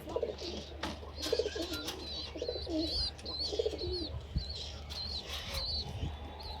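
Pigeons coo repeatedly at close range in a loft, soft rolling calls overlapping in a calm stretch with faint background chirps.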